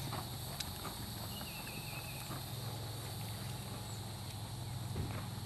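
A horse cantering in a dressage arena, its hoofbeats making a soft, steady rhythm against a constant background hum, with no one speaking.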